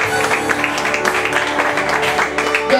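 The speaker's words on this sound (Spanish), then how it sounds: "un fuerte aplauso para él." Audience applause at the I Sing gala concert, a short burst of clapping from a crowd heard over lingering music tones, moderately loud and close.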